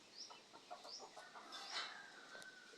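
A chicken clucks softly in short, faint bursts, with a few higher calls over a quiet background.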